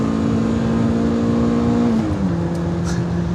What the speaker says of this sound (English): The M3 was made to go racing, of course, and none more so than the Sport Evo, and this engine just pulls and pulls and pulls and pulls.